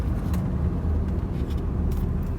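A 1995 Honda Accord, Japanese-market model with sunroof, cruising along the road: a steady low engine and road rumble with tyre noise, continuous and fairly close, no talking.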